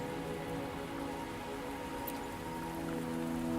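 Rain in the video game Wuthering Waves, a steady, even wash of drops falling on surfaces that continues throughout with no voices.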